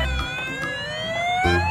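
A toy fire truck's electronic siren wails close by with a steady rising tone, cut by brief low thumps at the start and end, with no speech.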